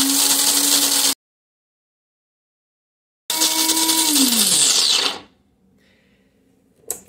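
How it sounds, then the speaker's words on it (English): An electric coffee grinder runs loud and steady on coffee beans for a coarse French press grind, stopping abruptly, then starting again for a couple of seconds before its motor winds down and falls quiet. "I found with this particular grinder that a 14-second grind is just what you need to brew a liter and a half of coffee"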